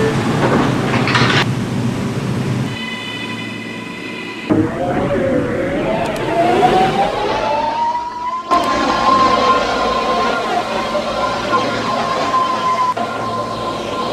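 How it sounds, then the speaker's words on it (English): R211 subway train on the M line running in a Roblox game, with a steady motor hum, a rising whine as it accelerates, and door chime tones near the start, under automated announcements. "This is a Norwood 205th Street bound M train."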